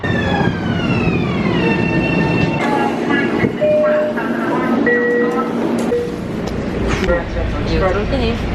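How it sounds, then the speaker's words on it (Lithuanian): A New York subway train running toward Manhattan, with a rumbling carriage, rising and falling electric motor whine and screeching wheel tones, while people talk over the noise throughout. "bėgam į traukinį ir važiuojam į Manhattaną"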